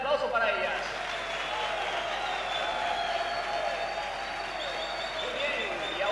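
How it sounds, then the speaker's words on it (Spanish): A crowd applauding at a festival held in a prison, sustained clapping that fills the space at moderate loudness, with speech over it. "Fuerte el aplauso para ellas."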